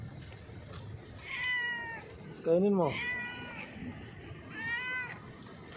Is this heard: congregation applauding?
no